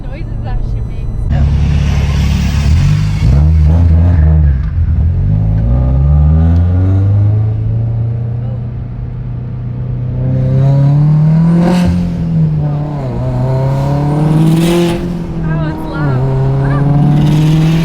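Built Subaru STI engine with a triple-disc clutch, loud and close, revving hard through repeated pulls with rising and falling pitch sweeps, run slightly lean, with people talking over it.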